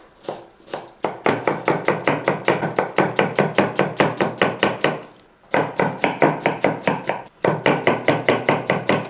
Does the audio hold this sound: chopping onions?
yes